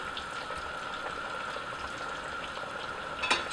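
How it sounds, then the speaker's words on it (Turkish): Steady, quiet sizzling of breaded kashar cheese frying in hot oil, with a soft crackle and a brief louder spatter near the end. "Panelerimizi kızartıyoruz."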